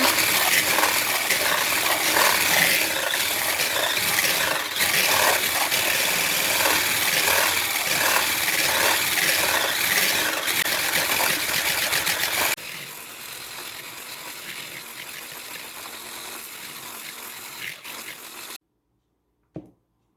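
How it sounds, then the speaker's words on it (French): An electric mixer whips egg whites for a sponge cake with a loud, steady whirring drone, dropping to a quieter buzz partway through before cutting off, with a brief knock at the end. "Ici, c'est le blanc en neige que vous montez et ensuite, quand ça sera ferme, vous allez rajouter du sucre."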